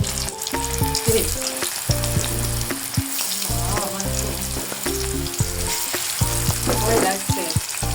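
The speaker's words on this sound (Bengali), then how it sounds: "আমরা এখন চিকেন ফ্রাইটাকে দিয়ে দিচ্ছি।" Chicken fries in a pan with a loud, close, crackling sizzle, while repeated stirring and clattering against the pan come through; nobody talks.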